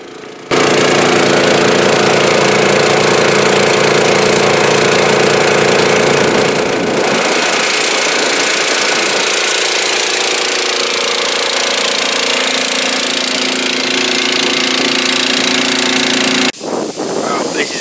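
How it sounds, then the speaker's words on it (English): A petrol-powered air compressor engine runs loud and steady for nearly the whole stretch, a dense continuous drone that changes tone slightly partway through and cuts off briefly near the end. "we're running the compressor now"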